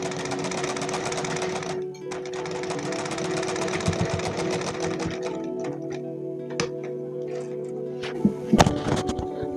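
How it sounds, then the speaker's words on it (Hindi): A sewing machine stitches the waistband casing of a child's salwar. It runs in a steady mechanical whir with some ticking and clicking, and near the end a few louder knocks break in. "ये हमने सिलाई लगा ली है पूरे राउंड की, और हमारा नेफा बनकर तैयार हो चुका है।"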